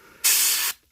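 One short, loud hiss from a pressurized paint sprayer coating Space Marine miniatures, a steady burst of about half a second that starts and stops abruptly, close to the microphone and heard alone.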